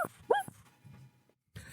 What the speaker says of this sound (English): oh, look at them dogs. There you go.